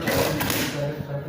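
A Jack industrial sewing machine (A4F) runs in a steady mechanical whir, then its thread trimmer snaps briefly near the end; a voice talks over the machine noise.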